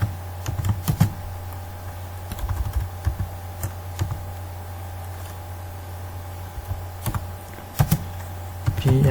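Keystrokes on a computer keyboard typing a Java prepared-statement line, irregular clicks in short bursts with pauses, close and clear over a steady low hum.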